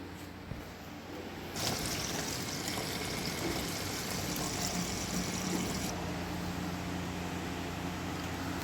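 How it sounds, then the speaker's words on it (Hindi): Water being poured from a container into a row of four plastic bottles, a steady broadband rush that begins abruptly and runs for several seconds before cutting back to a quieter hum, fairly faint overall. "ये 4 अब इनमें भर लेते हैं पानी।"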